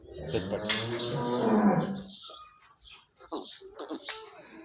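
A large cow in a cattle shed moos loudly and close, one long deep low call followed by fainter scattered rustling and small noises.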